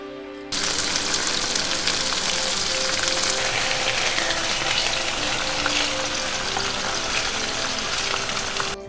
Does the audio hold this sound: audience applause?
no